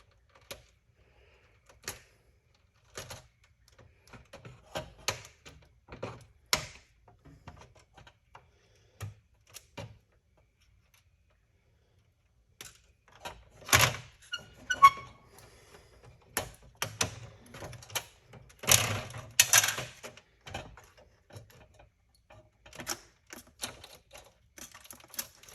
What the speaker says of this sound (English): I'm gonna start cutting this stuff.